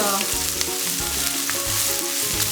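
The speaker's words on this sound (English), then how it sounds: "okay അത് നന്നായിട്ട് brown ആവുന്നത് വരെ അഴിച്ചുകൊണ്ടിരിക്കുന്നു" Medium onions sautéed in a pan until browned for Coorg chicken curry, a loud steady sizzle with frequent stirring scrapes, close and without speech.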